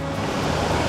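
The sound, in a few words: waterfall at Foster Falls plunge pool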